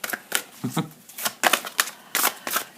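Tarot cards riffled and drawn by hand, a run of quick papery flicks and soft slaps in an irregular rhythm, close and clear with no voices.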